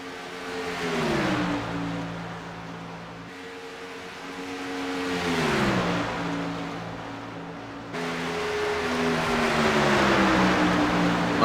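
Race cars passing on an oval track in a series of engine drones that swell and drop in pitch as each pack goes by, moderately loud with no talk.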